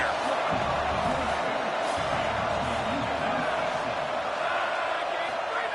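Stadium crowd noise in a college football video game, a broad, steady roar of spectators at constant loudness throughout, with occasional faint thuds mixed in.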